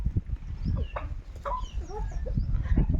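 Native country roosters and hens cluck and chatter while pecking at scattered grain, short overlapping calls and squawks close by, with soft scuffling and pecking noises between them.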